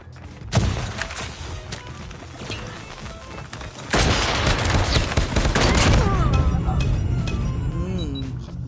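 Gunfire in the Call of Duty Mobile game, with loud bursts and rapid shots, thumping impacts and constant battle noise, and a voice speaking over the action.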